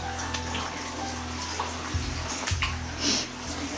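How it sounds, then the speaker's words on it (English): Water runs and gushes steadily inside a limestone cave on Iriomote Island, a continuous close splashing flow with a few louder surges and no talking over it. "I can hear a definite sound of running water."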